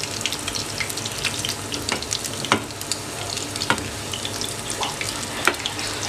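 Raw foli fish kofta balls frying in a pan give a steady, close sizzle of hot oil, broken now and then by sharp scrapes and stirs of a spatula; no one speaks.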